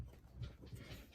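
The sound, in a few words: dog panting in the background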